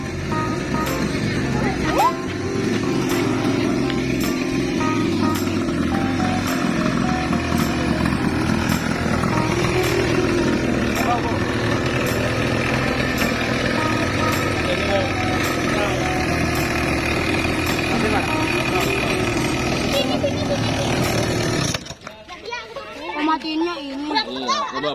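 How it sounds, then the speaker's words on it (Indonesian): A motorcycle engine buzzes steadily for most of the stretch, mixed with children's voices chattering and shouting, before the engine noise cuts off abruptly near the end, leaving quieter sounds. "Saya naik motor guys."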